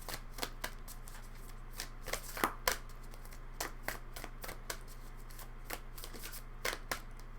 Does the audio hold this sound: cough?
no